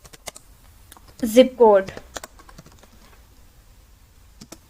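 Someone types a US state name on a computer keyboard, giving sparse, light key clicks spread through the clip, with a brief stretch of speech in the middle.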